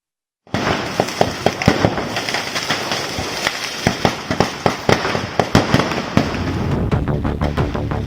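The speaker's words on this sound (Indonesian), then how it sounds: "lokasi kebakaran diwarnai ledakan, petasan, dan semburan kembang api" Fireworks and firecrackers pop and bang in rapid, irregular succession as a firecracker kiosk burns in Tana Toraja, South Sulawesi, loud and close, over a constant roaring crackle of fire.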